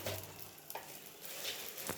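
Mustard seeds and urad dal sizzle in hot oil for tempering Chettinad kara kuzhi paniyaram batter: a steady, close frying hiss with occasional light stirring scrapes, no talking.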